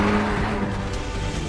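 A Porsche 911 sports car drives past loudly with a dense, continuous engine roar and tire rumble, a steady close-up drone with no voices.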